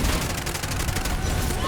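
Dense, continuous gunfire with incendiary fire bullets in the shooter Bright Memory Infinite, loud and steady throughout with rapid overlapping shots and no pauses.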